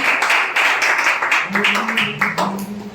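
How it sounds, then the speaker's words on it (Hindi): An open mic audience applauds to welcome a poet, with a broad wash of clapping that runs the whole way through while voices and chatter rise beneath it toward the end. "जोरदार तालियों से स्वागत करें भाई"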